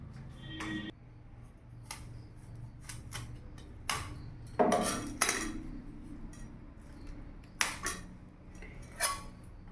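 Cauliflower florets broken off by hand one at a time in a home kitchen for cauliflower paratha, giving sharp, irregular close snaps and crisp clicks over quiet background.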